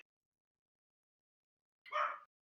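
A Pomeranian gives a single short, sharp yap near the end after near silence, fairly close and alone.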